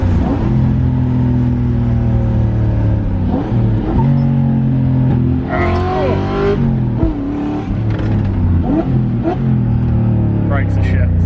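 A Toyota Cressida with a swapped 1UZ V8 and custom exhaust revs and accelerates, its engine note rising and falling loudly and close by, while people talk over it throughout.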